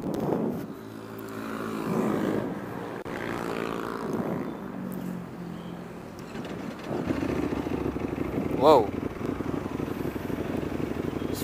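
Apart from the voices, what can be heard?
Ducati V4 R motorcycle engine roaring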